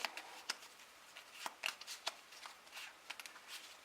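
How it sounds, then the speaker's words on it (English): Mansions of Madness first-edition spell cards shuffled by hand, a quiet run of quick papery riffles and soft clicks close by. "So we'll go ahead and just give them a little shuffle."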